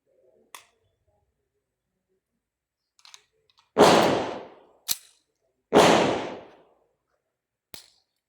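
Two loud gunshots a couple of seconds apart, each with a booming tail, surrounded by a few sharp clicks and metallic snaps of handling.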